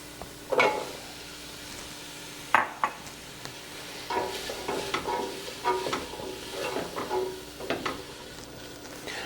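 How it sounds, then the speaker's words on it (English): Beans are stirred in a pot with sautéed onions and garlic for pasta e fagioli soup, giving close scraping stirs and soft sizzling, with a few sharp utensil knocks against the pot at intervals. "Our beans have been cooking for about a minute."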